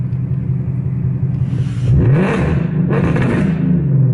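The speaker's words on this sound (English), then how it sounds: "I honestly forgot how loud my car was." A loud car engine idles with a deep rumble, then revs up twice in quick succession, roaring close by before settling back.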